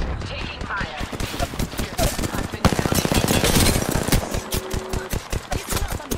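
Automatic gunfire in Apex Legends: rapid, evenly spaced shots in long rattling bursts, loud and close, with a faster volley partway through and voices talking over it.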